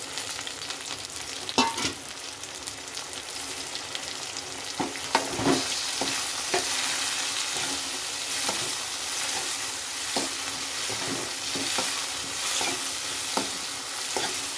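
Onion and tomato fry in a pan for an onion gojju, a soft continuous sizzle broken by scraping stirs and occasional clinks of the spoon, with no voices.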